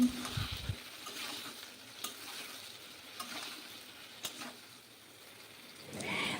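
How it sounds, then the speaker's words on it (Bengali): Eggplant pieces frying in oil in a wok make a quiet, continuous sizzle, with a brief clatter and stirring at the start and occasional soft scrapes throughout. "যে তেল রয়েছে এই তেলের মধ্যে দিয়ে দেব বেগুনগুলো। এবার আলাদা করে বেগুনগুলোকেও লাল করে ভেজে নিতে হবে।"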